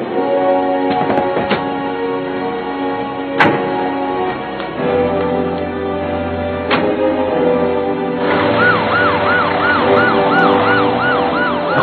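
An ambulance siren blares close and loud, starting with sustained tones broken by sharp bursts, then switching to a fast rising-and-falling wail near the end, with no voices.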